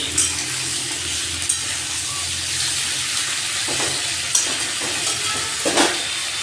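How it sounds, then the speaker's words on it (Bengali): Winter vegetables stirred and fried in a pan, with a steady close sizzle and occasional scraping clinks of a spatula against the pan; no talking. "সবজিগুলো একটু নাড়াচাড়া করে ভেজে নিচ্ছি"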